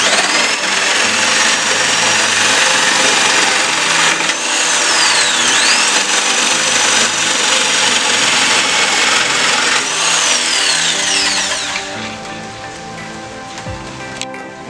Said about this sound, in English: this is the first crate I'm going to cut